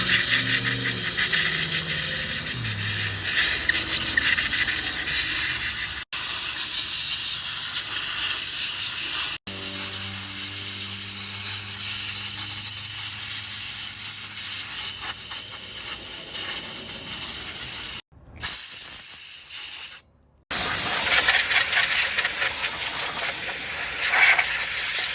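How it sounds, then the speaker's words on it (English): Air compressor filling with air, a loud continuous hiss and mechanical rumble broken by a few abrupt stops and restarts, with a pulsing motor tone at times. "Time to fill my air compressor."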